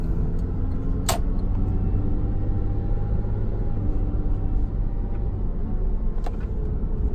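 Porsche Cayman cruising in normal driving, a steady low engine and road rumble heard from inside the cabin, continuous and fairly loud, with a couple of brief sharp clicks or knocks standing out.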